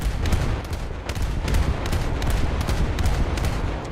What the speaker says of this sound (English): Just going to keep shooting in the air.